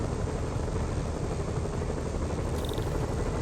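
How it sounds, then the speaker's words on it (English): Helicopter rotor noise from the video game Marvel's Spider-Man, a steady, loud, dense whir that holds at an even level throughout, with no speech over it. "Bet I can use those helicopters to swing."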